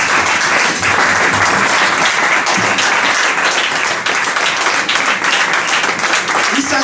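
A church congregation bursts into sustained applause, dense loud clapping filling the room without a break, with faint voices mixed in.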